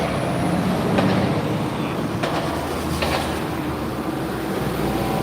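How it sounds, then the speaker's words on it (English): A Prévost coach bus from Saint-Jean-sur-Richelieu pulls into a downtown Montreal bus terminal, a steady diesel rumble with faint air-brake hisses over constant street noise. "There's a Prévost bus from the Saint-Jean-sur-Richelieu pulling into Terminus Centreville."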